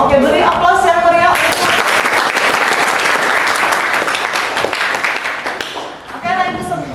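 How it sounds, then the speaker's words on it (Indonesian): A high school classroom of students bursts into lively applause, a dense sustained clatter of many hands for several seconds, with a teacher's voice before and after. "beri aplaus yang meriah"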